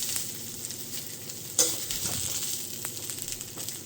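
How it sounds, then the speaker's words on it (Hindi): Jackfruit pieces sizzle and fry in hot oil in a pan, steady crackling with a sharp clink of a spoon stirring near the middle, close and loud, no talking. "इधर कटहल भून ही रहा है"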